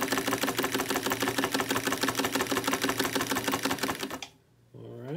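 A 1954 Singer 99K sewing machine stitches at a short stitch length with a rapid, even mechanical chatter for about four seconds, then stops and briefly winds back up, close and clear with no talk.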